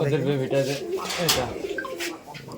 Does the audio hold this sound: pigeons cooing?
yes